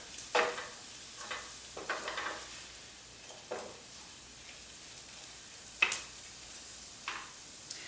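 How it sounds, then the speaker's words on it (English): Rice stirred in a pan with extra virgin olive oil and vegan butter for mushroom spinach risotto, a faint low sizzle broken by occasional scrapes and knocks of the spoon. "I'm going to cook this for another 2 minutes to make sure that every grain of rice is coated with our extra virgin olive oil and our vegan butter."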